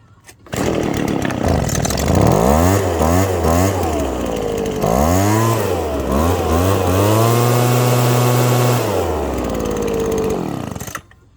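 Small engine with a newly replaced fuel line starts up after a brief pull, then runs loud and close, rising and falling through several revs before settling and cutting off.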